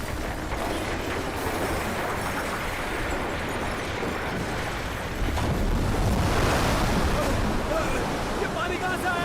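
Rushing water and surging waves in a dramatic film scene, a loud continuous broadband roar that swells louder partway through, with no clear speech.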